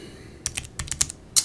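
Keys on a computer keyboard clack in a quick, uneven burst of about eight taps as a wallet passphrase is typed, close and clear over a faint hum.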